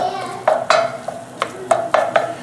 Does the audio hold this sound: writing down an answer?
no